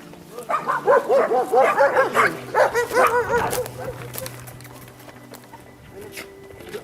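A street dog barks rapidly and repeatedly while jumping, close and loud, in a dense burst of yips and barks that tapers off into quieter background noise.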